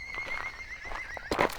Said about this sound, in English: that's a horse in the field